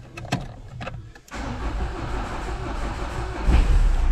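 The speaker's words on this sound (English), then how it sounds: "Let's get in the vehicle now and give it a big start and give it a try." A Citroen Berlingo engine starts after a clutch replacement, a few quick starter cranks then the engine catching and settling into a steady close idle.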